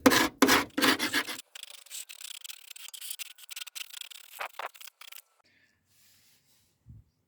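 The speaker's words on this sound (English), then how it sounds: "let's give that a scraping off and a bit of paint at the very least" Scraping and rasping on the bare metal body of an Opel Manta during a rolling restoration, loud rough strokes in a dense burst at first, then lighter intermittent scrapes before fading to near silence.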